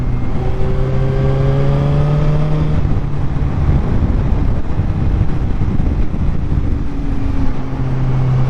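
Suzuki GSR 750 motorcycle ridden through corners, a loud engine drone that rises and falls as the rider accelerates, heavily buffeted by wind rushing past the microphone.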